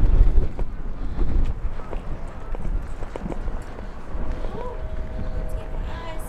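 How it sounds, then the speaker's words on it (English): Wind gusts buffet the microphone with low rumbling noise on an off-season walk through downtown Bethany Beach, Delaware, while people talk nearby and a faint tone rises near the end. "I know, it's windy. Windy today."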